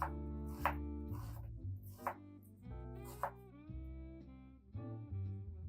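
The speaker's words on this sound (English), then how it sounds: "guide the blade with your knuckles and slice" A knife dices an onion on a board, giving a handful of crisp, separate chops spaced about a second apart. The chops are quiet and sit under louder background music.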